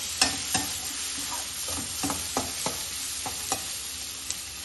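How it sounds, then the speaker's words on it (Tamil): Onions and tomato fry in a pan for mutton curry, a constant close sizzle broken by sharp scraping taps of a stirring spoon. "இது நம்ம நல்லா ஃப்ரை பண்ணிப்போம்."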